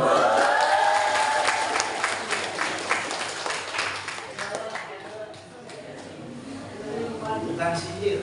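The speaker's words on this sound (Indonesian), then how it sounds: "Tepuk tangan." A high-school class applauds in a classroom, a dense patter of clapping that fades gradually, with a voice speaking over the start.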